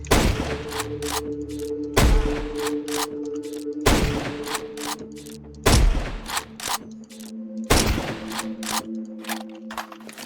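Gunshots from Counter-Strike 2 on a warm-up practice map, sharp loud reports in spaced bursts about every two seconds, each followed by quick rattling follow-up shots and ringing tails.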